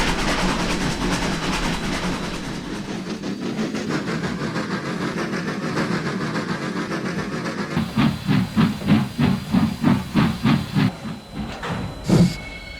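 A train pulling a caboose sets off, a rumbling, hissing engine that builds into a steady rhythmic chuffing beat, fairly close and without any voices.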